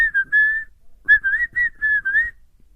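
A person whistles a short melodic tune in clear, close tones, two phrases separated by a brief pause, with soft breathy noise underneath and no talking.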